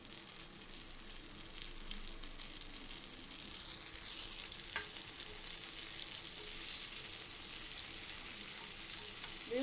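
Egg roast frying in a pan over a medium flame, a close, steady hiss of sizzling oil that swells slightly, with a brief clink near the end.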